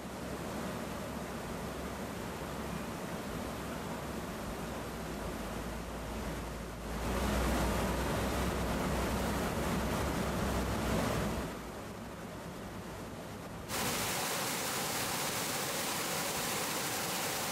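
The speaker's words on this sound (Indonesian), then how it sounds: "Air terjun setinggi kurang lebih 40 meter ini dihiasi bebatuan besar dan kokoh." Steady, full-band roar of a roughly 40-metre waterfall over large rocks in Indonesia, continuous and fairly loud, swelling slightly in the middle before settling into an even rush.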